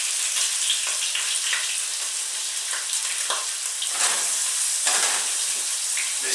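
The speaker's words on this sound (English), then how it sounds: "when you put your ribs in, you really want it to get a good brown on the outside of the meat first" Wild game ribs brown in hot oil across two pans, giving a loud, continuous sizzle with crackling pops that rise and fall as the meat sears.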